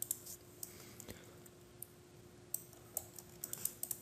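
A computer mouse clicks at a desk in a machining shop, giving a scattering of faint, sharp, irregular clicks over a quiet background hum, with no talk.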